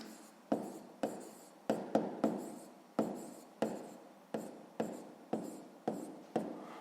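A math equation is written by hand, with a dozen or so crisp strokes tapping and scratching at an uneven rhythm, each ending in a short scrape, close and fairly quiet with no talking.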